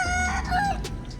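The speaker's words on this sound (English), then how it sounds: "Look at all the chickens in the trash" Chickens pecking among piles of trash cluck and call close by, one drawn-out crowing cry over a busy, noisy outdoor background.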